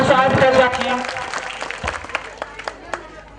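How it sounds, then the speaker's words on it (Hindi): Scattered hand claps from an audience at a live outdoor municipal function in Sarlahi, welcoming a guest to the stage. A voice speaks first, then sparse, uneven claps sound through the rest. "ताली से स्वागत कर रखिए।"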